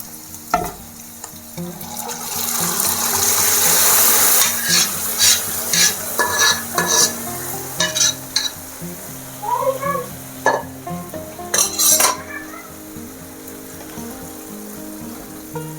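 Cooked lentils get stirred into a pan of fried onions for ash gourd dal, a loud sizzle followed by rhythmic scraping strokes of a spoon against the pan, close and clear with no talk.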